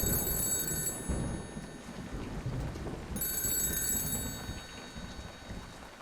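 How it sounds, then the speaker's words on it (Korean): A telephone at a military guard post rings in two separate bursts, each about a second long, over a steady downpour of rain that continues between and after the rings. "전화벨이 울리는 거예요."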